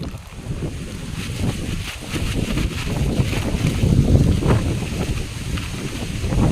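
Strong wind roars steadily into the microphone while fishing for catla and rohu, a constant low buffeting rumble with no voices.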